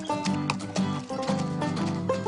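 Horses arriving for an endurance race are heard amid a busy mix of sounds, with hooves clip-clopping in an irregular patter at moderate distance and some soft tonal sounds layered over them.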